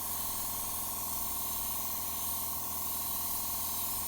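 Steady, close spray-gun hiss of paint going onto the bumper of a Peugeot J9 coffee van, continuous and even throughout with no talking.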